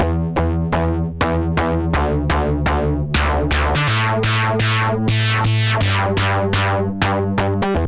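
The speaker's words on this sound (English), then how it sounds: "we can create more of a artistic distortion" A bass line with heavy hard-clip distortion plays a steady repeating pattern of plucked notes, loud, buzzy and gritty with harsh overdriven harmonics.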